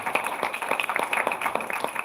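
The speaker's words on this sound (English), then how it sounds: "give Rich a round of applause because he really does deserve it" An audience at a board of directors meeting gives a round of applause, with steady, moderately dense clapping from a room of people, heard at mid distance and fairly even in loudness.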